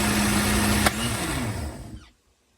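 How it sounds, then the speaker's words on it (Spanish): A blender blending salsa with onion and garlic whirs steadily for about two seconds, with a brief knock partway through, then winds down and stops. "Tapamos y licuamos"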